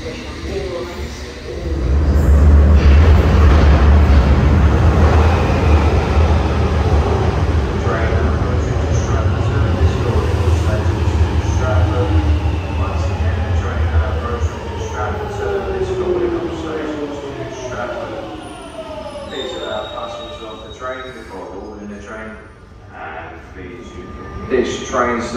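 A London Underground train rumbles loudly, then gradually eases off and fades, with a recorded announcement voice heard over it near the end.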